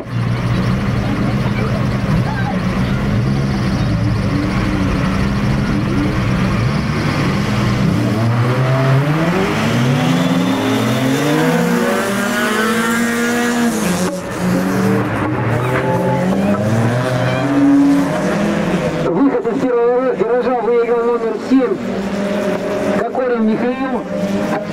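Race cars on a winter auto show course at Slobodskoy, engines revving hard and rising and falling in pitch through shifts, loud and close throughout, with faint tire noise near the end.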